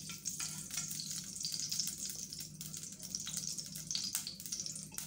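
About a spoonful of ghee heats in a hot kadhai. It gives a faint, continuous soft sizzle and crackle, close by and alone.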